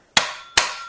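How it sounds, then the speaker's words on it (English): Hammer lightly tapping seized screws on a DRD exhaust muffler, two sharp metallic clanks about half a second apart, each ringing briefly before fading, close and alone. "after lightly tapping it with the hammer"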